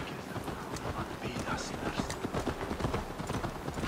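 Horses gallop in Assassin's Creed Valhalla, a steady, dense run of hoof clip-clops under constant game ambience, with someone speaking over it.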